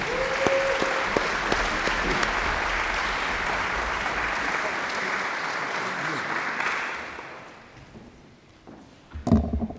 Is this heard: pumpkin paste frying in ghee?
no